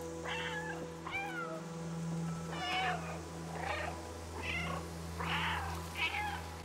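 A cat in the video game Stray meows again and again, about six clear mid-pitched calls at a steady pace over a low game background hum, with no talking.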